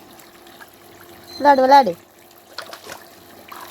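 Water trickles softly as a child splashes and washes their face at home by a coconut tree, with a voice and adult talk over the steady dribble.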